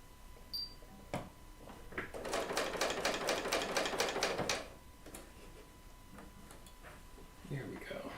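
A serger runs along quilt strips in a burst of rapid, evenly spaced stitching taps lasting a few seconds, then stops; a voice talks before and after the run.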